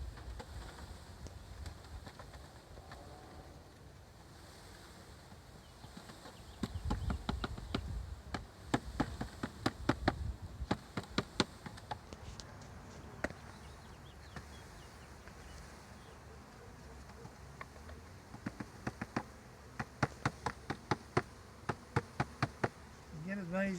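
Honeybees from a package are shaken into a new hive, giving a soft, continuous buzzing hum with bursts of sharp knocks and taps in the middle and near the end, and a person speaking quietly at times.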